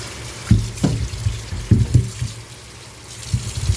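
Running tap water splashes steadily as things are rinsed and washed in a sink, with irregular louder gushes and clatter over a constant flow, close by and with no talking.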